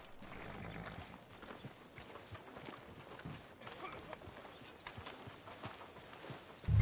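Horse hooves clip-clop at a steady walking rhythm in the video game Red Dead Redemption II, fairly close and moderately quiet, with faint ambient noise around them.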